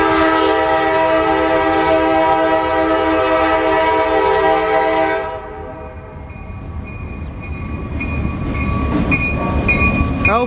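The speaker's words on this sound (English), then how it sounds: "Got a train here." A Norfolk Southern train horn blares loud and sustained for several seconds, then cuts off, leaving the rumble and clatter of a northbound local freight train rolling past close by in Marion, Ohio.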